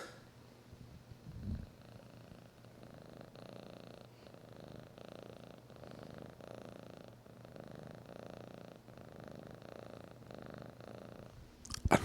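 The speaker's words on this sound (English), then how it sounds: "I don't know if you guys heard that, but he's purring." A cat purring steadily up close, a soft low rumble that continues through the clip with faint rhythmic pulses, followed by a brief louder bump at the end.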